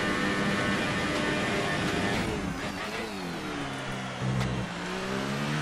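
A Formula 1 car engine in the F1 2018 video game at the Azerbaijan Grand Prix screams at high revs, then drops and climbs through gear changes, loud and continuous.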